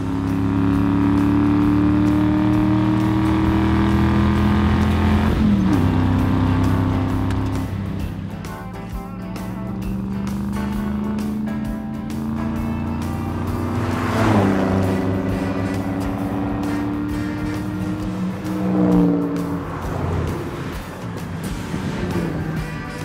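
Vintage classic cars on a road rally drive past in turn, their engines rumbling and revving with rising and falling pitch as each approaches and fades, steady and fairly loud throughout.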